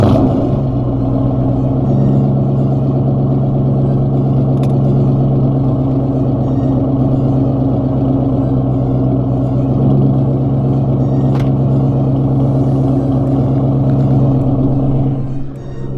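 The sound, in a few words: Ford Mustang engine cold start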